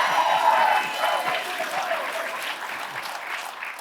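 An audience applauds at Preet Bharara's talk at The Neptune, a dense, steady clapping from a large crowd that holds strong throughout and eases slightly toward the end.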